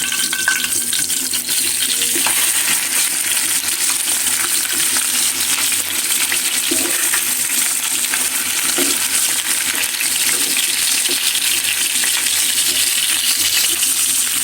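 Poa fish fry in a pan of hot oil with a loud, steady, close sizzle that never lets up, broken now and then by faint scrapes as the fish is turned, with no one talking.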